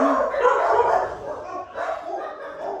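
Dogs barking indoors in a home during pepper seed planting, several loud yips and woofs in quick bursts over a couple of seconds, close by.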